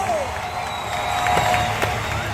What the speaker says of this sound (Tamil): நீங்க அவங்கள எந்த அளவுக்கு அன்பு வச்சிருக்கீங்கன்றத உங்களுடைய கரகோஷங்களால ஒரு முறை காட்டலாம் மக்களே